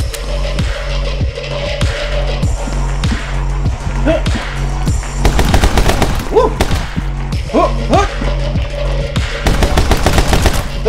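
Video game gunfire crackles in rapid regular bursts like a machine gun, loud and close over a thumping backing beat, with short vocal sounds mixed in.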